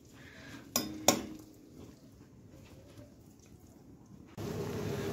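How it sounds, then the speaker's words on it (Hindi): Peas are stirred into paneer curry in a pan: two sharp metallic clinks of a spoon against the pan, then soft scraping, followed by a louder sizzle near the end. "अब इसमें मटर को भी मिला देते हैं दोस्तों"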